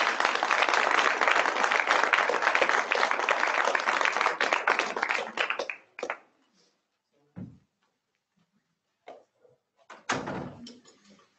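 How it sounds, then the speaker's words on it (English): An audience applauds after a conference presentation on data-driven recreation planning, with steady dense clapping for about six seconds that stops abruptly, followed by a few scattered claps, thumps and rustles in the room. "so let's give them a round of applause"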